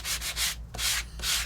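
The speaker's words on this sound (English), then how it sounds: "And you can sand as much or as little as you would like." Sandpaper rubbed over paper during a 3D embossing and stencil craft, giving four broad scratchy rasping strokes in a steady back-and-forth rhythm, close and fairly loud with no talk.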